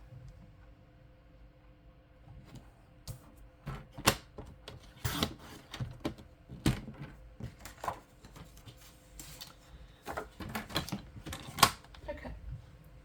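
Paper is cut for a tea sampler craft, giving an uneven run of close clacks, thumps and sliding scrapes from a paper cutter or trimmer, moderately quiet with brief pauses, no talking.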